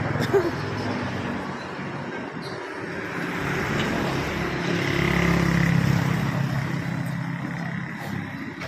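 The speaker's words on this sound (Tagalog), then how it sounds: "Bilis ng motor niya, no?" A fast motorcycle passes along the road amid steady traffic rumble, its engine swelling to a peak midway and then fading, heard from nearby with no talking over it.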